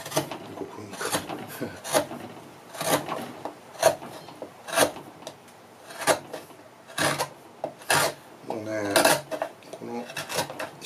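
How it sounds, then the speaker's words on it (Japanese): Hand tools scrape and rasp across wood during finish carving of a wooden bowl, a series of separate rough strokes of varying length, close and fairly loud with short gaps between them. "仕上げ削り作業"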